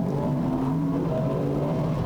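A BMW Z3 Class B race car at Silverstone in a racing video game holds a steady, droning engine note at speed, moderately loud, with other cars close by and no talking.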